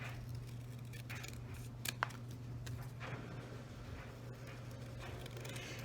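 Scissors snip through paper to cut a piece out of an envelope at a craft table, giving a few quiet, close crisp cuts over a steady low background hum.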